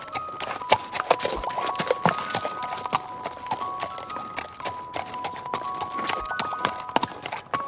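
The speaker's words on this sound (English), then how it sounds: "Can you gallop like a horse?" Horse hooves clip-clopping in a steady, rhythmic trot-like beat, moderately close and clear, with a background music tone running underneath throughout.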